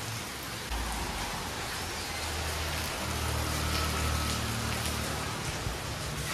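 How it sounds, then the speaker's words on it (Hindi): Steady rain falls outdoors on a parked motorbike and car, a dense, even patter and hiss that continues throughout with a low rumble underneath. "एक बारिश से दोनों काम हो रहे हैं अपने,"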